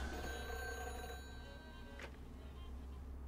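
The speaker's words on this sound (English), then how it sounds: "Ooh, the phone's ringing." A telephone rings in the video game Aviators: War in the Skies, giving a faint trilling bell with steady tones that break off partway through.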